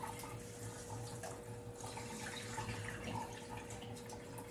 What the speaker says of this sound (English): I'm going to drain that rice off.